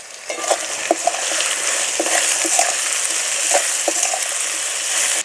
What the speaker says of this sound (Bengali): সব কিছু একটুখানি নাড়াচাড়া করে নিয়েছি